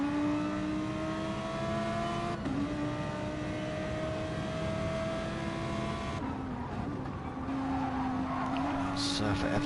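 Gran Turismo-style Gr.3 race cars at Fuji International Raceway drone with steady engine tones, several cars close together with gear shifts and pitch changes, while a commentator talks over them.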